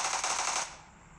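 A short burst of rapid automatic gunfire in a PUBG Mobile match on Sanhok during a PMGC 2022 esports game, fast rattling shots that cut off abruptly with a brief tail.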